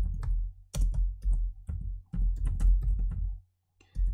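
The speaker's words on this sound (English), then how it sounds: "we go ahead and press Ctrl Enter on the keyboard" Someone types on a computer keyboard up close, with clusters of quick key clicks and heavier taps in uneven bursts, a brief pause near the end, then more typing.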